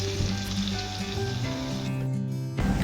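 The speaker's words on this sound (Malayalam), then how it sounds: "ഒരു പാനിൽ കുറച്ച് വെളിച്ചെണ്ണ ഒഴിച്ച് മാരിനേറ്റ് ചെയ്തിരിക്കുന്ന ഫിഷ് ഷാലോ ഫ്രൈ ചെയ്യുക" Marinated fish shallow frying in coconut oil in a pan, a loud, steady close sizzle and crackle that runs on throughout with no voices.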